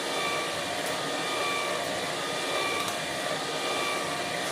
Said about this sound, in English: This machine is very good guys, but you just have to make sure you cut up your fruits.